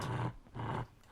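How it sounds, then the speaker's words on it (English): A pit bull in an audio drama lets out deep rough growls, two long rumbling bursts and the start of a third, close and fairly loud with no talk. "the pit bull, who turned at what was left of the gourd and growled."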